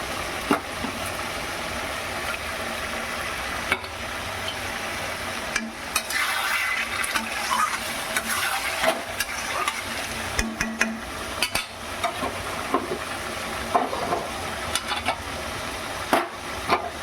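Fried hilsa fish heads being stirred into taro leaves in a pan, with steady scraping and stirring strokes and a light sizzle, close and fairly loud with no talk.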